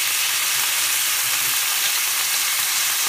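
Rosemary garlic chicken pieces frying in a pan, a loud, steady sizzle that runs unbroken throughout with no voices.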